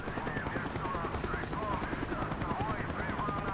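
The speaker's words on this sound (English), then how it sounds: "It may actually be the helicopter spotting me." Helicopter in Call of Duty: Black Ops, a steady thumping rotor drone mixed with bursts of gunfire, loud and continuous throughout.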